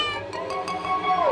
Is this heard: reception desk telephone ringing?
no